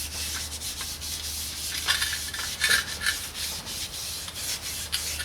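An aluminum piece scrubbed by hand with a Scotch-Brite pad gives close, repeated rasping strokes in an uneven rhythm over a low steady hum.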